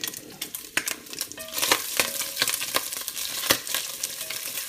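Food browns in a hot pan with a close, crackling sizzle. Scattered sharp pops and light utensil scrapes against the pan rise above it now and then.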